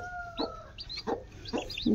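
A hen gives several short, throaty clucks in an uneven rhythm, with chicks' thin, high peeps scattered between them, close by and fairly clear over a low background hum.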